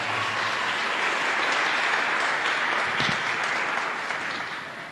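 A church congregation applauds during a service after a scripture reading, loud sustained clapping from many hands that holds steady and begins to fade toward the end.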